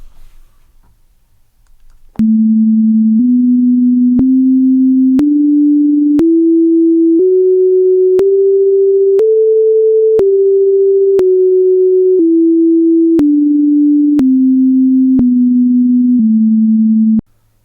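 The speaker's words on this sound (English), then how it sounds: "So this is a Pythagorean diatonic scale, which sounds like this." Pure sine tones play a Pythagorean diatonic scale, about one note per second, climbing eight steps and then descending back to the start, each tone steady and clean.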